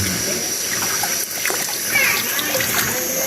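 Clear spring water runs and splashes steadily close by, a continuous trickling flow with small splatters and faint background voices.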